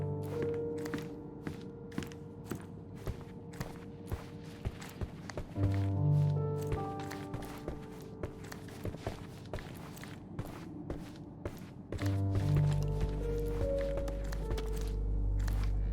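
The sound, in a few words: footsteps upstairs in the video game Sherlock Holmes Chapter One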